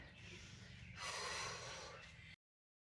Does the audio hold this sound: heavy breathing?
yes